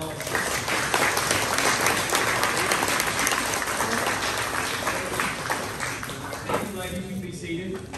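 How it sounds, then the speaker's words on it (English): An audience at a Lady Bobcat softball team banquet gives the 2020 team a round of applause, dense steady clapping filling the room for about seven seconds before fading as a voice begins speaking. "Would y'all give them a round of applause?"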